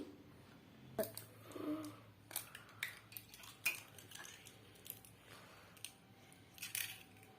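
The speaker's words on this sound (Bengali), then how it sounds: "আমি ডিমগুলোকে প্রথমে ফাটিয়ে নিই" Eggs cracked open against a bowl for a Christmas cake, a series of faint, sharp taps and knocks scattered irregularly, with small clinks of shell and utensil in a quiet kitchen.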